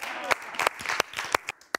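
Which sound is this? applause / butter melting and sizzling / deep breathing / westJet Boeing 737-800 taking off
applause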